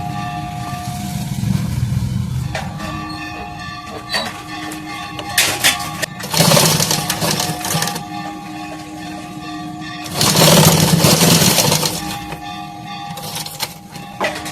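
A sewing machine stitching a simal katori blouse runs in two long loud whirring bursts, with quieter mechanical clicks and rustling between them, close up.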